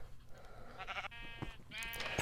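Sheep bleat in Minecraft, a video game, with an adult and a baby sheep giving several wavering digital bleats in quick succession, close and clear against a quiet background.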